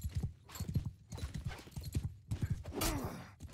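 Horse hooves clip-clopping in rapid, overlapping beats during a medieval battle in the video game Mount and Blade 2 Bannerlord, steady and close, with other battle noise mixed in.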